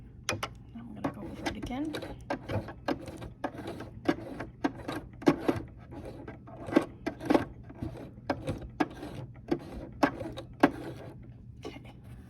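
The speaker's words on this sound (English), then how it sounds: "now I'm going to put on the back stitch, so I'm back stitching with the hand wheel" A sewing machine back stitching as its hand wheel is turned gives a run of quick, close mechanical clicks and taps, uneven in rhythm, with a quiet voice speaking briefly.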